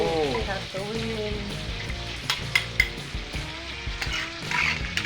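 Spice paste for potato balado frying in a pan in a village kitchen, giving a steady close hiss and crackle with a few soft clinks of a utensil stirring it.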